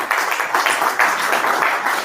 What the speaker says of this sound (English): So a round of applause for Adi